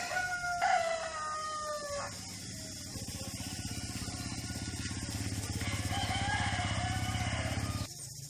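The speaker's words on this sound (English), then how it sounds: "Fighting cocks." Fighting cocks crow in Toraja, Indonesia, with two or three drawn-out calls over a steady low engine rumble, a motorcycle or vehicle idling close by for most of the stretch.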